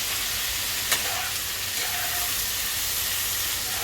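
Sliced squash sizzling in a hot pan with salt and turmeric, a steady close hiss of frying with one faint clink near the start, no voices.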